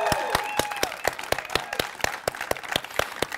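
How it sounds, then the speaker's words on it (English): A crowd at a county government funding announcement applauds the county executive with rhythmic, distinct claps close by and a few voices rising faintly underneath. "not just claps, but some whoops and hollers for our current county executive"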